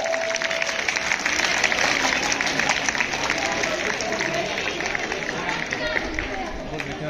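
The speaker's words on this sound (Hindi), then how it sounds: "के पैट्रियोटिक सॉन्ग के लिए तालियां भी कमाल की होनी चाहिए नहीं?" An audience at a Republic Day school event claps after a patriotic song, a dense, sustained round of applause throughout with some crowd murmur mixed in.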